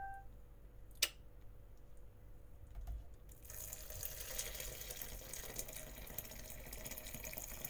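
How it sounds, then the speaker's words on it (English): Water pours steadily into a pot of perpetual stew, starting suddenly after a quiet moment with a single tap, then a continuous rushing fill that keeps going. "And now let's add the water."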